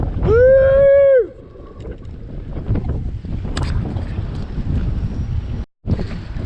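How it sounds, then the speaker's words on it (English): Strong wind gusts roar and buffet the microphone on a fishing boat during a very windy outing, a steady low rush that follows a short whistle-like tone at the start. "winds 10 to 20. It's breezing heavy."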